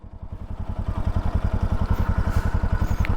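A motorcycle engine runs steadily close by with a fast, even thumping pulse that builds slightly as the bike pulls away, loud and continuous with no talk.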